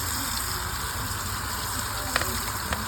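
Fish sizzles steadily in hot oil in a pan, a dense, even crackle with a few sharper pops, close and continuous throughout.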